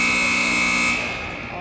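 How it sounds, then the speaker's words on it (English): An ice hockey arena buzzer marks the end of the second period in a Nepean vs 67s game, a loud, steady electronic tone that holds for about a second and then drops away. "and that's the buzzer"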